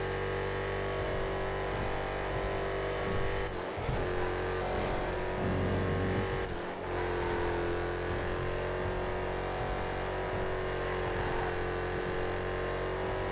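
A Gauntlet Hellhound muscle car races in GTA, its engine droning loud and steady with revving, brief dips as it shifts or brakes, and a squeal of tires midway.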